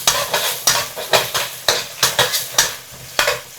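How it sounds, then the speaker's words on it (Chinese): Minced garlic and scallion whites sizzle in hot oil in a wok, a steady loud crackle under regular metal spatula scrapes and clanks that repeat about every half second. "锅中倒入少许食用油，油热后加入蒜末和葱白，快速翻炒至香味散发"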